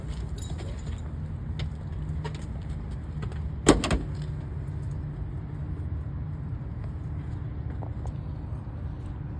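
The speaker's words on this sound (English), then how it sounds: "So the baggage door, Yeah. we want to make sure it's closed." Baggage door of a Cessna light aircraft shut during a preflight check, a single sharp latching thud rising out of steady outdoor background noise, with quiet surroundings before and after.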